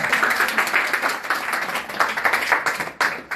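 Loud, steady clapping from a satsang gathering in Bangalore welcoming the Kurukshetra group, many hands beating in dense rhythmic bursts with a brief dip near the end.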